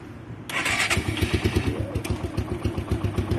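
A motorcycle engine with an aero metal guard additive in its oil starts up and settles into a warm-up idle, its close, loud putter beating in a quick, steady rhythm.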